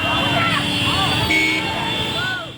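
Horns honk during a roadside traffic jam, with overlapping wavering toots from several vehicles under steady road noise and crowd murmur, close and fairly loud.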